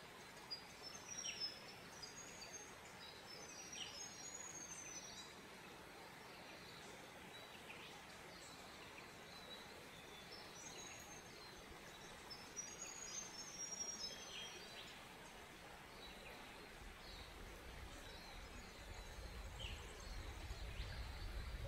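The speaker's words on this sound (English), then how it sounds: "you can hear the birds in the forest around me." Birds chirp and tweet faintly in the distance over a soft, steady outdoor hiss with insects, with no talking.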